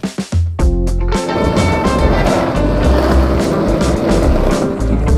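A modified penny board skateboard clacks a few times as it is set down on pavement, then rolls in a loud, continuous close rumble of small wheels on rough ground.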